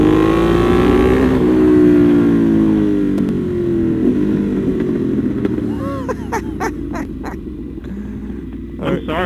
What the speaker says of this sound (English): I think that bike wins the award for best sounding motorcycle of all time.